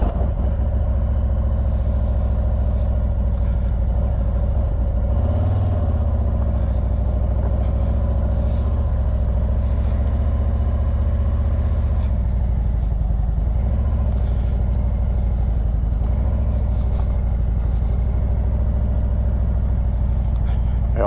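Harley-Davidson Road Glide motorcycle riding on the way to a wildlife refuge, a steady low engine drone with wind rumble throughout, loud and continuous without a break.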